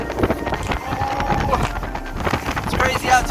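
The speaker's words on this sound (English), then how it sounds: "it's crazy out here, super windy" Strong wind gusts across a microphone on a dam during an early morning of fishing, loud buffeting rumble with choppy waves, and a voice talking over it.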